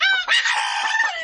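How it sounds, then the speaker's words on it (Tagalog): A rooster crows once, a close, loud, drawn-out call with a brief break near the start. "Oh, ulit ihabal sa manok."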